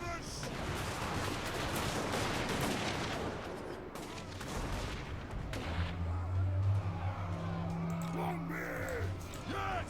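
Dwarf gunners fire their guns on a Total War: Warhammer battlefield, a dense crackle of distant musketry and battle noise with a low rumbling tone rising later, faint and continuous throughout.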